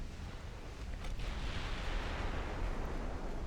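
Naval gunfire in the game Ultimate Admiral: Dreadnoughts, with 15-inch and 9-inch guns: a continuous heavy rumble of distant booming blasts over churning sea-like noise, steady and dense throughout with no talk.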